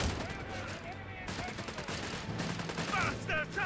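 Machine gun fire in the World War II strategy game Company of Heroes 3, with rapid bursts of gunfire crackling under steady battle noise and a few louder rattling volleys near the end.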